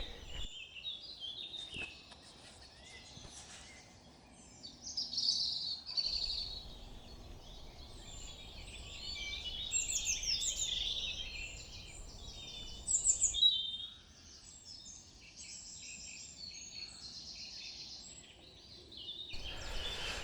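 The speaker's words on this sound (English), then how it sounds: "Coming out first thing in the morning like this and hearing these birds" Several birds sing and chirp at a distance in quiet English farmland and woodland, their high calls overlapping in continuous early-morning chorus.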